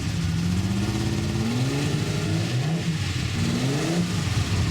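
A 1966 Ferrari 275 GTB long-nose alloy-body V12 with six carburetors revs up twice, each rising blip swelling over a throaty idle with strong intake noise, close and loud, with no speech.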